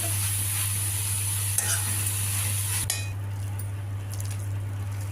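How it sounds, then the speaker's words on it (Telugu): Cowpea curry with spice powder is stirred in a hot pan, a steady sizzle with scraping and light utensil clinks, the hiss easing off toward the end. "బాగా మిక్స్ చేసేసి ఆ వేడికి అదే సర్దుకుంటుంది"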